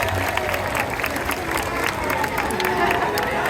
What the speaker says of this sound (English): can we give a big old round of applause for encouragement?